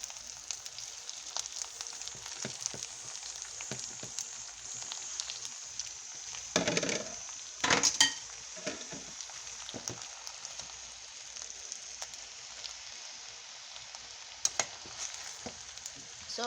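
Onions sizzle and fry steadily in a pan for spaghetti with shrimp, a continuous hiss with brief louder bursts of stirring partway through, no voices.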